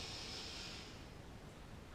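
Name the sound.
deep inhale during yoga stretching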